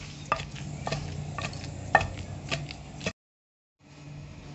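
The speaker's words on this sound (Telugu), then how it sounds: "ఒకసారి కలుపుకొని దంచుకుందామండి." Chopped ivy gourd pounded and mixed for a coarse chutney gives a run of dull, evenly spaced thumps about half a second apart, followed by a brief silence and then a faint rustle.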